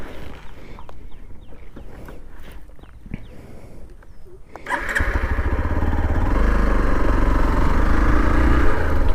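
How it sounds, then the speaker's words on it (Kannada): A Hero XPulse motorcycle on a solo ride fires up after a few seconds of quiet outdoor ambience, then settles into a loud, steady idle that stays close and continuous to the end. "ಸೊ ನಮ್ಮ ಗಾಡಿ ಸ್ಟಾರ್ಟ್ ಮಾಡೋಣ, ಹೋಗೋಣ ಇವಾಗ ಸಾಕು"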